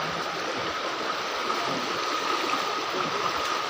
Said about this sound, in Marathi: इकडे ओढा आहे.